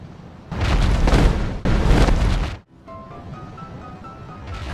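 Two loud, booming fireball explosions strike the Asylum Demon in Dark Souls, each roughly a second long with a sharp break between them, then fading into lower rumbling with faint tonal game sounds.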